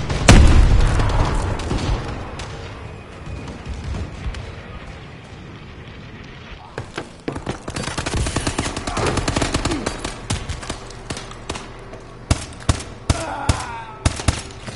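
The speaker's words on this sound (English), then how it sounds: "Bombing run incoming" A bombing run tears through a Call of Duty: Advanced Warfare ranked multiplayer match: a heavy opening blast fades, then rapid machine-gun bursts, rattling gunfire and sharp repeated explosions crowd in close and loud.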